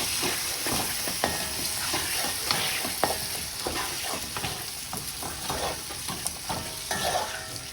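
Pigeon peas (gandules) being stirred and sautéed in a big pot for arroz con gandules, a steady sizzle with repeated scraping spoon strokes throughout, close and moderately loud, no talking.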